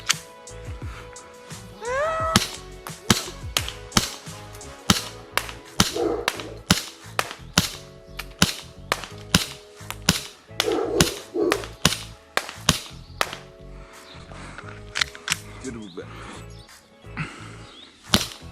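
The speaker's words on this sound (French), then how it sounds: "Test de tir du MP9C de chez VFC Humarex" An Umarex Smith & Wesson M&P9C gas airsoft pistol made by VFC fires a long series of sharp, close cracks, mostly in quick irregular bursts with short pauses, with a few brief spoken exclamations between shots.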